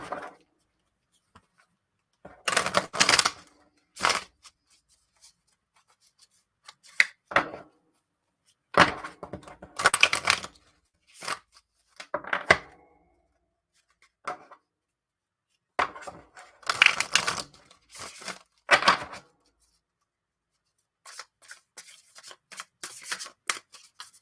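A deck of cards shuffled by hand gives several short bursts of riffling and snapping cards, close and crisp, separated by quiet gaps, with no talking.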